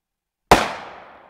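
A .50 caliber training round goes off in a hang-fire test with a sudden single loud bang after silence, followed by a short decaying echo.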